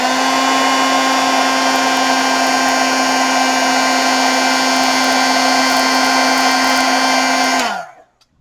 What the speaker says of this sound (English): we'll go ahead and heat emboss that sentiment